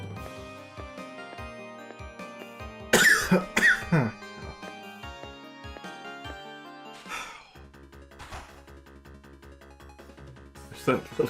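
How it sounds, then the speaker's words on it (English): A person coughs hard after water goes down the windpipe, a few harsh coughs in a quick cluster followed later by another burst, heard over melodic video game background music. "it takes a while to cough all of it out"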